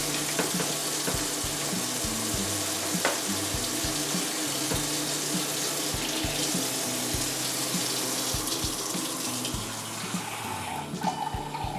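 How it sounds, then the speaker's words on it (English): Warm water runs from a kitchen tap into a measuring cup in a steady, close splashing stream that keeps an even level and shifts slightly in tone near the end, with no talk. "I take it warm right out of the tap"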